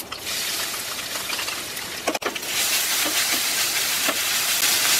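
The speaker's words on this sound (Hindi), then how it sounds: "धीमी आंच पे मसाला सौते कर लेते हैं" Spices, curry leaves and a coarse green chili, ginger and garlic paste sauté in hot oil over low heat, giving a loud, continuous sizzling hiss with a few soft stirring knocks and no talking.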